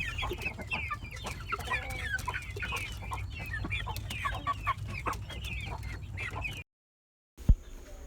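Native chickens cluck and chatter in a busy, overlapping flock close by over a steady low hum, before a sudden silence and a single sharp knock.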